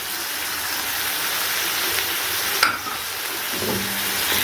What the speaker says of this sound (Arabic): ونبدأ نقلب الكبدة بتاعتنا